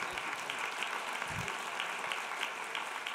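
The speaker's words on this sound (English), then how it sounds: "A round of applause." Steady audience applause in a meeting hall at the 2024 National Governors Association gathering, a dense even wash of clapping hands from a mid-sized crowd, sustained throughout.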